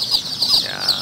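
Free-range village chicken chicks in a rearing pen, chirping in a quick run of high, thin peeps, close and fairly loud with no talking.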